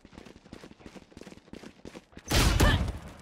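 Gunfire in an online video game rattles through a fast series of sharp shots, then a louder, denser burst of firing near the end, heard close and alone without talk.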